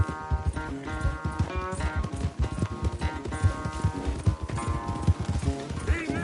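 A horse gallops hard during a race in a video game, with rapid, steady hoofbeats that sound close and run continuously over layered game music.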